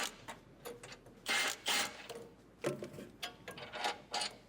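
A socket wrench with a 3/4 socket ratchets a bolt loose while installing a granular attachment kit, giving quiet clicking bursts in uneven runs with short pauses, close and alone without talk.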